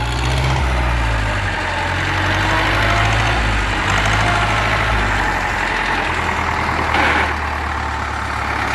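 A Champ MX5900 tractor engine runs with a loud, steady, rumbling diesel drone close by, holding a constant pitch throughout with no talking.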